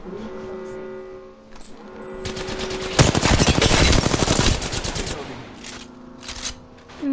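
Rapid automatic gunfire in the battle-royale game Apex Legends, a loud sustained burst of closely spaced shots lasting a couple of seconds, with quieter scattered game effects and tones before and after.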